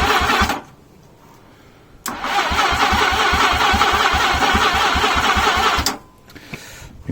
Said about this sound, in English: So the starter motor itself, it just seemed quite laborious.